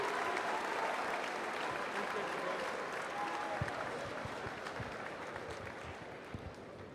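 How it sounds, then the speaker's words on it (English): An audience at an Army fight night event applauds in a dense, steady roar of clapping and crowd noise that fades slightly over several seconds. "let's give that group another hand, a round of applause, please"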